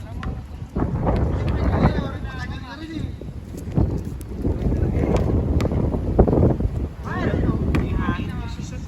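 Strong wind buffets and roars across the microphone in gusts while people talk and shout over it.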